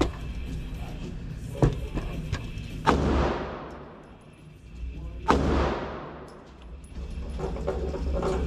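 An AR rifle fires two loud, sharp shots at an outdoor shooting range, each with a long decaying echo, over quieter handling noise and a faint murmur of talk.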